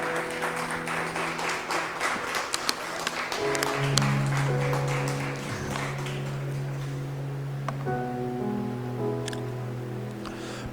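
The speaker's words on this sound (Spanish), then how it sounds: "¿Cuántos le pueden dar palmas al Señor?" A church congregation claps together during a sermon, a dense patter of hands over sustained musical tones. The clapping thins out as the music carries on alone.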